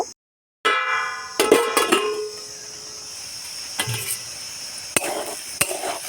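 Thankuni leaf fritters frying in a pan, a light sizzle under sharp clinks and scrapes of a spoon stirring against metal, close and intermittent after a brief silent start.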